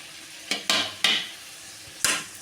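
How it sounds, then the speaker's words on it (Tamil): Sliced cabbage for egg fried rice is tossed in a hot pan, heard as four quick, close scraping strokes of a spoon through the pan over a faint sizzle. "அடுத்ததாக நீல வாக்கில் கட் பண்ணி வச்சுருக்கிற கோஸையும் நம்ம போட்டுக்கலாம்."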